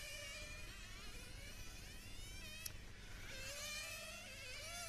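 A 1/10 scale nitro IC racing car engine running very lean screams at high revs on a track at a European championship qualifying session, a thin buzzing whine rising and falling steadily throughout, with other engines blending into the background.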